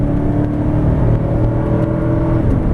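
A 2008 Ford Expedition Eddie Bauer 4x4 accelerates at high throttle, a loud, steady engine drone with a rising whine heard from inside the cabin, with no talking.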